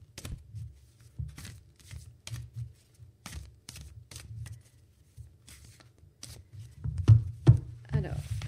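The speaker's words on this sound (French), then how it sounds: "Donc je mélange les cartes." Tarot cards are shuffled by hand in a quiet room, a series of soft, irregular flicks, snaps and riffles over a low background hum, growing slightly louder and busier near the end.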